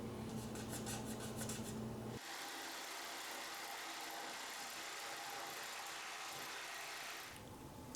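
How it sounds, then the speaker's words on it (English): A tube is cut into two-inch pieces for a homemade portable air cooler. After a brief lower hum, a steady, close, rasping cut runs for about five seconds before stopping. "now we're gonna cut two pieces of 2-inch from our tube"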